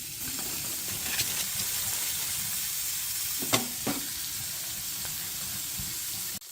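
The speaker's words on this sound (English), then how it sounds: "Gonna get the burgers on here now." Burgers sizzle in a hot pan outdoors at a camp, a steady, close frying hiss with a few sharp pops and crackles.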